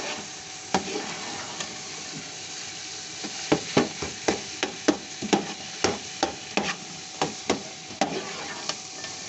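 Gajar ka halwa (carrot halwa) being stirred in a pan, a spoon scraping and knocking in a quick regular run of close taps over a faint sizzle, with no talk.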